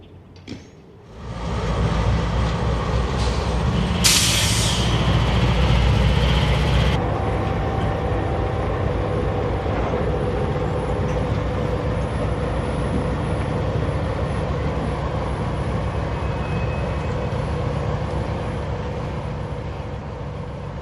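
Amtrak-style passenger train 452 pulling away north toward Waycross, Georgia, after a stop: a steady, loud rumble of wheels and engine rolls on throughout, with a brief bright hiss or release early on.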